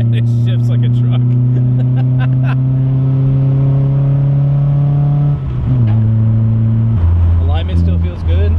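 A loud Nissan 240SX engine accelerates through the gears from inside the car, a steady droning rise, a shift dip midway and another near the end, with brief talk over it.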